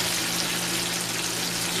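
Steady, dense sizzling and crackling of chicken strips frying in hot oil, constant and close with a faint low hum underneath.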